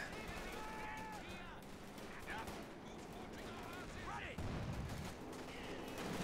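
A Panzer IV tank firing alongside a flamethrower in a war video game, heard as a dense, continuous clatter of gunfire and blasts under steady battle noise, with voices throughout.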